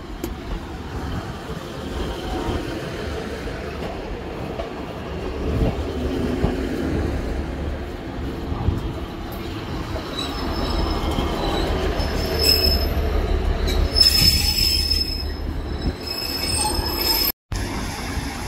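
A Great Western Railway train, a pair of units on the St Ives to St Erth service, pulling into a station with steady rumbling wheels and sharp high squeals from the rails growing louder toward the end.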